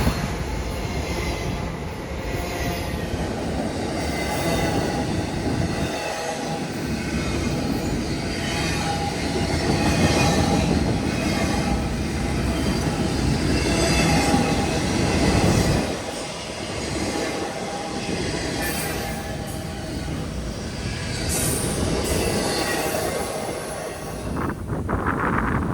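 A CSX intermodal freight train rolls past at close range, a long continuous loud rumble of wheels clicking over rail joints with occasional squeals, carrying on for the whole stretch.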